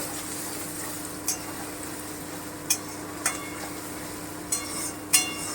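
Soaked coriander powder frying lightly in a pan for a coriander chicken dish gives a soft, steady sizzle, punctuated by about five brief spatula scrapes spaced unevenly throughout.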